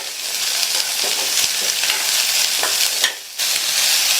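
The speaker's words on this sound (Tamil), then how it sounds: "இந்த பீன்ஸை எண்ணெயிலேயே நல்லா ஒரு 2 நிமிஷத்துக்கு ஹை ஃப்ளேமில் வச்சு வதக்கிக்கலாம்" Chopped green beans stir-fry in oil over a high flame, giving a steady, close, loud sizzle with occasional stirring scrapes and a brief dip near the end, with no talking.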